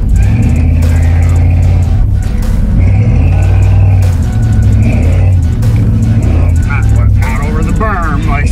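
A vehicle engine drives along a two-track trail with a berm, rumbling loud and steady throughout as the driver works to keep the wheels straight, with people talking over it.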